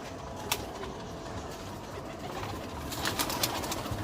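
Pigeons coo faintly inside a loft, with low, soft calls and occasional brief rustles against a quiet, steady background.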